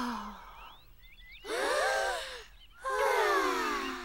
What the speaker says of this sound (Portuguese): Respirem bem fundo este ar tão puro,